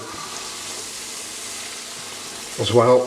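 Spice mix for tandoori chicken achari, three tablespoons, stirred into a sizzling pan kept on low heat; a steady, even sizzle runs throughout, with a short burst of speech near the end.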